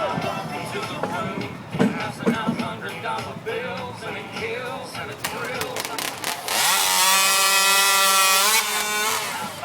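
Several chainsaws rev and cut through wood at a lumberjack racing competition, loud engines buzzing and whining continuously with a crowd cheering and an announcer talking.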